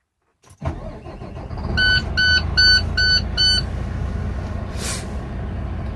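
A Cat CT660 dump truck engine cranks and starts, then settles into a steady idle, with a short series of five electronic beeps chiming just after it catches.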